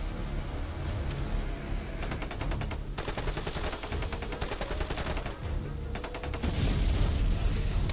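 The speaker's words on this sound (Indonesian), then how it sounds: "Oh Erik pakai pistol" Gunfire from a pistol and other guns in an Indonesian war short film rings out in dense bursts and rapid volleys over a busy battle soundtrack, loud throughout and heaviest near the end.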